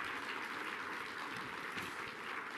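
Audience applause at a food and health summit, a faint, even patter of many hands clapping from a distance, steady for a few seconds.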